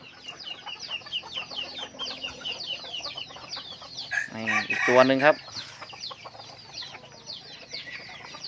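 Young fighting cockerels cluck in quick, soft repeated bursts nearby, with one louder, strained crow rising in the middle before the clucking resumes, while someone talks intermittently.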